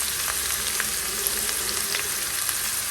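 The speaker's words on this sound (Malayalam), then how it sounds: "നമുക്ക് ഇതിലേക്ക് നേരത്തെ അരിഞ്ഞ് വെച്ച ഉള്ളി ഇട്ട് കൊടുക്കുക." Chopped onions fry in hot oil with cinnamon and cloves for a chicken lahori curry, a dense, steady, close sizzle with small crackles throughout.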